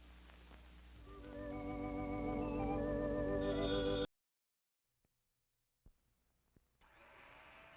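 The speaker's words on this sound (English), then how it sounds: "It's a General Electric blender that's going around." A General Electric blender in a vintage advert whirs with a rising motor pitch for about four seconds, then cuts off into silence before a fainter whirring resumes near the end.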